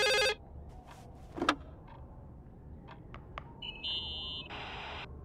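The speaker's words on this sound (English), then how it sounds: "Oh wow, this phone is ringing." An old-fashioned telephone rings in short electronic bursts in the video game The Suicide of Rachel Foster, over a quiet room tone with faint clicks and no talking.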